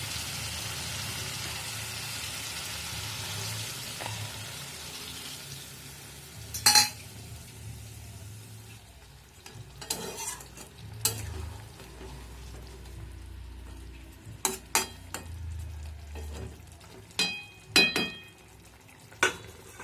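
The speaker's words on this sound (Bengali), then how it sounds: "মাংসটা কষানো হয়ে গেছে, এখন সামান্য একটুখানি জল দেবেন মতো" Meat braised in a pan, first as a soft, even sizzle and then as sporadic sharp stirring and scraping clicks of a spoon against the pan, close but fairly quiet.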